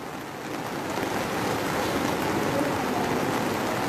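A river in flood at San Pedro Carchá, Alta Verapaz, Guatemala, roars as a steady broadband rush of churning water, loud and continuous throughout with no voices.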